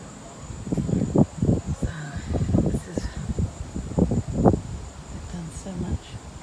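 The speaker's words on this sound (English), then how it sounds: "It's really windy." Strong wind gusts outdoors on a crazy windy night around a house deck, buffeting the microphone in irregular rumbling bursts of varying loudness, with brief faint voices in the background.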